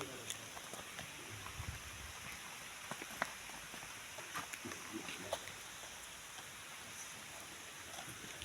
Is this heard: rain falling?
yes